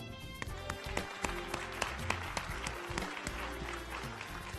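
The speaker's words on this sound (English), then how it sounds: "so the applause go to you" Audience at a Clark County, Nevada event claps in faint, scattered applause with occasional sharper claps, distant and low in level throughout.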